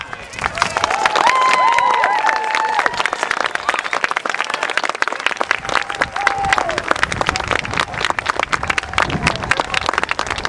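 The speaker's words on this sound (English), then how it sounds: "these soldiers deserve a bigger round of applause than that" Crowd at a Wars of the Roses battle reenactment applauding and cheering for the soldiers, dense clapping with shouts and voices mixed in, loud and building across the stretch.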